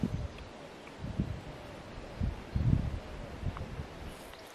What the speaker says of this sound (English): It's very windy in Hampshire today.